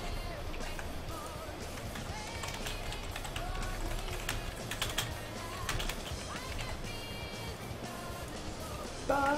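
Rapid, steady keyboard typing and small clicks close by, running throughout over a low background hum, with a few tonal electronic sounds and a brief louder burst near the end.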